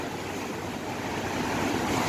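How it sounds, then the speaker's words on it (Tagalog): Strong ocean waves break close by in a steady, loud roar of surf, mixed with wind buffeting the microphone. "Malakas po yung alon ngayon,"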